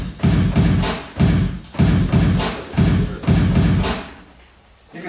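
A drum and bass style loop played on a Rhythmat drum mat gives loud, punchy beats in a fast repeating pattern of heavy kicks and snares, then cuts off into near silence at the end.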